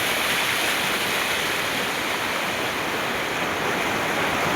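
Mahanadi river water rushing beneath a bridge, a loud, steady broadband roar that fills the whole moment without a break.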